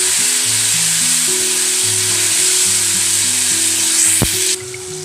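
Mashed tomato hits hot oil tempered with broken dried red chilies, giving a loud, dense, continuous sizzle over a soft tonal background. One sharp knock comes near the end, then the hiss drops off suddenly.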